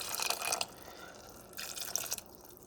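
Water is poured into a pot of Cuban-style black beans, with two bursts of bright, splashy pouring separated by a quieter gap, heard up close.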